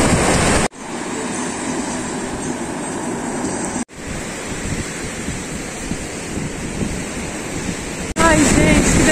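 Sea waves at Praia dos Ingleses beach in Florianópolis on a calm day, a steady broadband surf wash with wind rumble that breaks off briefly three times, loud and continuous with no talking.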